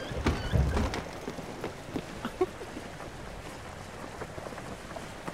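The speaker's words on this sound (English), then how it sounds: "We'll go through the rain." Rain falls steadily in the game Spiritfarer, a soft continuous patter of drops at moderate loudness. A few faint taps and bumps sound through it, with no voices.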